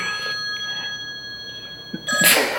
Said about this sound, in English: my drama phone started going off like...